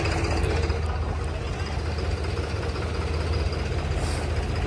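Several tractors idle in a parking area as they are lined up in rows, a steady, close diesel rumble with a deep low throb that continues without a break.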